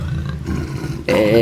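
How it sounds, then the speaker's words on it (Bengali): A cartoon tiger in the Sundarbans forest lets out a loud, close roar that swells sharply after a lower rumbling growl, standing alone with no talk over it. "আরে এ তো বাঘ"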